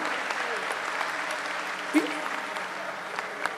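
A large crowd applauds at a religious gathering honoring Satwa Baba Ji Maharaj, giving steady, distant-sounding clapping across the whole stretch with a faint voice mixed in underneath.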